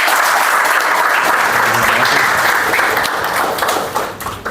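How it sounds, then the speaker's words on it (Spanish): A large audience claps steadily in an auditorium during a talk on talent and money at a university, dense applause holding loud throughout and tapering slightly near the end. "Un aplauso, por favor"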